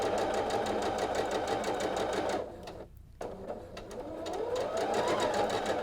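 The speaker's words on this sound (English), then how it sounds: "we're going to keep stitching the next piece and not cut them apart" A sewing machine with a 1/4 inch foot stitches quilt fabric in a fast, even mechanical whir, pausing briefly mid-run before resuming at full speed.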